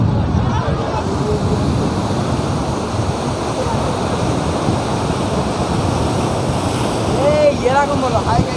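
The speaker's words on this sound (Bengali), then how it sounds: "তো কতটা ঢেউ তোমরা বুঝতেই পারছো দেখে।" Sea waves wash onto the beach at Digha, a steady roaring surf close by with gusts of wind buffeting the microphone, continuous across the whole stretch with no talking.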